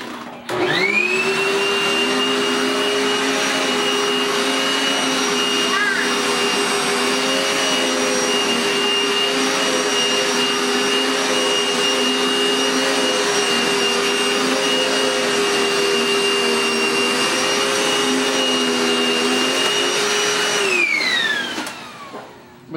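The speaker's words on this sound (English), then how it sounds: "Did I help Daddy vacuum?" A household vacuum cleaner runs steadily and loudly at close range with a constant whine and drone for about twenty seconds, then powers down as the motor winds off near the end.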